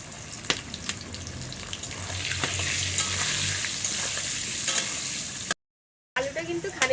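Potatoes seasoned with salt and turmeric sizzle steadily in a hot pan while being stirred, a constant frying hiss with occasional scraping, ending in a brief cut and some clatter.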